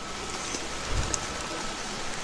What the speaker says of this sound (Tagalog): kita nyo naman yung patak ng ulan